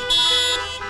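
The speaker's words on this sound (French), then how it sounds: "Le klaxon 3 fois." Car horns honking together at a drive-in cinema in a supermarket car park, a loud sustained blare of several horns at once that cuts off abruptly, with a quieter horn lingering briefly after.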